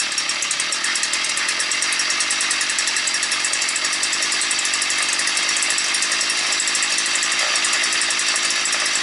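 Stihl FS 55 string trimmer engine idling on choke as it warms up in cold weather, a loud, close, steady buzzing drone that runs unbroken through the whole stretch.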